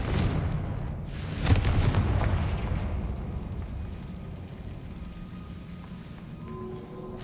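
A fiery Confringo spell explosion from the video game Hogwarts Legacy bursts with a muffled boom, then a loud hissing, crackling rumble that slowly thins out over several seconds.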